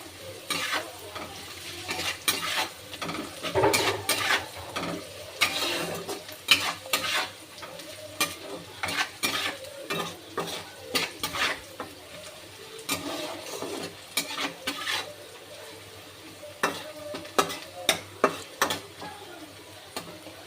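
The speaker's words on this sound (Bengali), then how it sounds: "বাদামি বাদামি করে পেঁয়াজটা ভাজা হয়ে গেছে।" Lightly salted onion frying until browned in a pan, stirred continuously with a utensil, producing a steady sizzle under frequent sharp scraping and tapping strokes, close and fairly loud.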